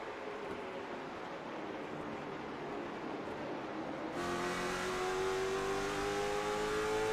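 Late model stock cars racing at Martinsville Speedway, a steady loud engine roar under throttle that jumps in pitch and intensity partway through as the car accelerates out of a turn, with no talking.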